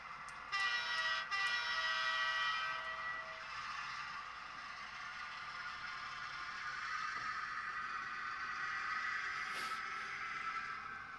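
A model train locomotive moving back onto a siding in a switching session: a faint, steady mechanical running hum, with a few short horn-like toots near the start.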